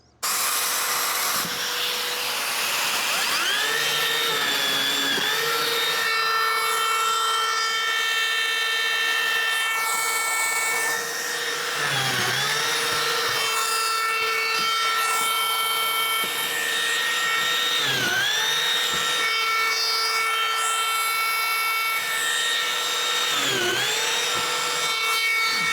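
Lamello Zeta P-2 joiner machining slots into wood: a loud, steady motor whine runs throughout, with repeated dips in pitch every few seconds as the cutter bites into the workpiece, with no talking.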